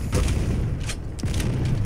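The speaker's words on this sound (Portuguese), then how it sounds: "Eu não consigo matar com essa shotgun aqui" Shotgun blasts in the arena shooter Quake Champions, several booming shots spaced across a short burst of busy, loud game action.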